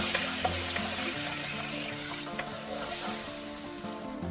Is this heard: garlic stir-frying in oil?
yes